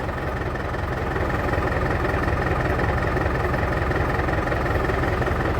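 A David Brown 1490 tractor's diesel engine idles steadily and close by, a continuous even rumble with no pauses and no speech over it.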